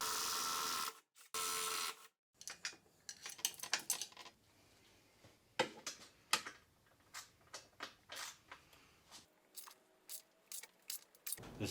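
Bolts being loosened and removed from a car's brake bracket, with sharp metallic clicks and ratchet-like ticks in irregular bursts, close by in a quiet garage, preceded by short loud noise bursts.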